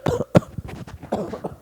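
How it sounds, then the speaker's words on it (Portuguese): A person coughing into the crook of the elbow, a couple of short muffled coughs close by, the first sharp burst followed by softer rough exhalations. "Tossir na dobra do cotovelo."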